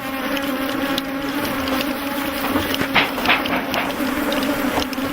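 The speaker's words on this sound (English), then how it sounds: "As more hives are opened, thousands more bees come out to defend them" Thousands of honeybees pour out of opened hives in Africa, forming a dense, close, unbroken buzzing drone that swells slightly in places, with no voices.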